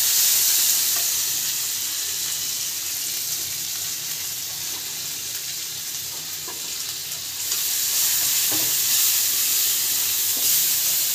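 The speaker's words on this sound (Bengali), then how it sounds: "মশলাটা একটু ভালোভাবে ভেজে নিই" Spice paste with tomato, turmeric, cumin powder and green chillies frying in oil for a tilapia curry, a loud dense hissing sizzle throughout, swelling again near the end, with faint stirring taps and no voices.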